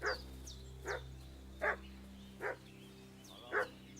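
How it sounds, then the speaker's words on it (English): A dog in the video game Kingdom Come: Deliverance 2 barks five times in sharp, evenly spaced bursts at moderate distance over a low, constant ambient hum. "What's that dog making such a fuss about?"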